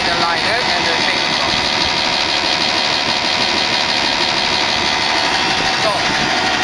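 Continuous heavy mechanical roar of a large compressor running at the Pluto LNG plant in Karratha, Australia, loud and close, with a steady hum throughout.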